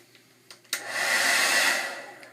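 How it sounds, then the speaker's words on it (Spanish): A hair dryer blowing cool air to dry a cleaned Coach purse switches on after a few clicks and runs as a loud, steady close whoosh, alone without talk. "Con cualquier secador que tengas"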